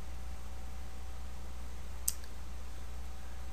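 One sharp, quiet computer mouse click on a WordPress page in an otherwise hushed room with a faint steady hum, no talking.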